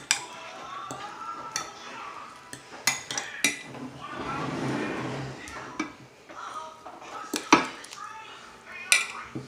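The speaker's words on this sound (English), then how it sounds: "Mix everything together." Steak marinade being mixed in a bowl, with repeated clinks and scrapes of a utensil against the dish and a soft sloshing stretch in the middle, close and fairly quiet, with no talking.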